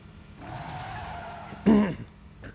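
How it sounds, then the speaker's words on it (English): A loud vehicle engine with no muffler rumbles as it approaches over a hill in the video game Fate/Grand Order, a steady roar followed by a short, sharp, louder burst like a skid. "It must have a surely powerful engine if we could hear it all the way out there."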